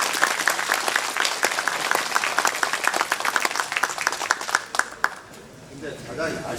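A crowd at an outdoor city public talk event in Suncheon applauds to welcome the mayor, with dense, loud clapping that fades out near the end.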